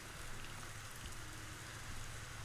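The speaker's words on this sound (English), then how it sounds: "look, it's raining again." Steady rain falling in the Rising World video game, a constant dense hiss of drops heard alone without talk.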